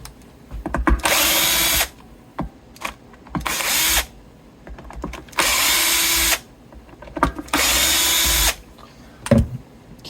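Bosch power drill running in four long, loud bursts of about a second each, separated by short pauses with small clicks and handling knocks, during work on a Fender 1959 Custom Shop Stratocaster.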